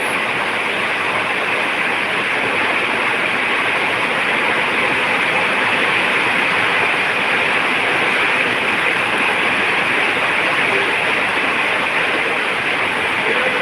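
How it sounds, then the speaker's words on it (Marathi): Heavy monsoon rain pours down in the Konkan region, a dense, steady roar of water that stays loud and unbroken from start to finish, with no voices. "बघा आमच्याकडे किती पाऊस चालू आहे"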